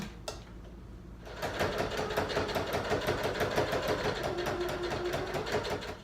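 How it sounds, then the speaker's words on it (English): A sewing machine stitches the opening of a fabric rice bag shut. After a brief quiet start it settles into a steady, fast, rhythmic needle chatter with a motor hum, heard up close. "I'm just gonna take where this opening is and just stitch it up on the machine."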